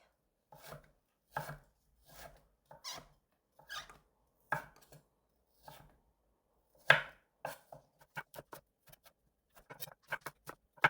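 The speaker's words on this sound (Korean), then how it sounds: "이렇게 넓게 채를 썰을 거예요" A knife julienning deodeok root taps against a cutting board in irregular, soft chops that quicken toward the end, close and quiet.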